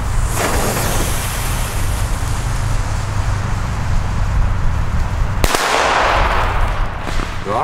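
Dum Bum Black Edition black powder firecrackers, legal F2 class, bursting outdoors in a rapid series of sharp bangs with a loud crack near the end, no talk over them.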